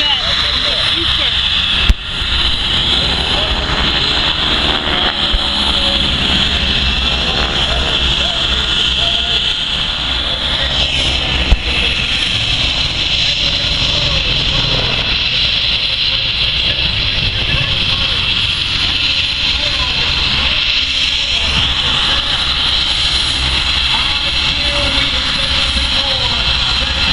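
A jet aircraft engine roars loudly and continuously at an air show, a broad steady rush that masks nearby voices as people talk under it.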